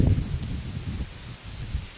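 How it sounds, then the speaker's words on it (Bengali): Gusty wind blowing outdoors just before rain, a steady low rumbling rush that swells and eases in soft waves, fairly close to the microphone, with no other sounds. "কি বাতাস,"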